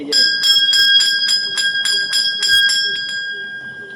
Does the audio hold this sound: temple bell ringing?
yes